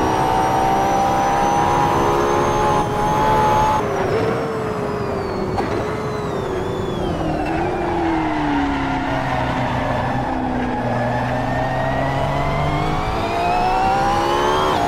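Loud, continuous roar of race car engines in a racing video game at Laguna Seca, with Lamborghinis in the field, rising and falling pitch as gears shift and cars accelerate, with tire squeal mixed in throughout.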